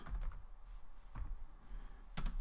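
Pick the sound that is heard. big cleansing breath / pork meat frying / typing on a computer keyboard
typing on a computer keyboard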